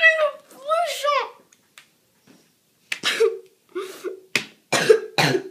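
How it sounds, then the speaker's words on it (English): A young girl coughs several times in short harsh bursts, close and loud, after a stretch of upset child speech and a pause during a tantrum. "Look, you're coughing."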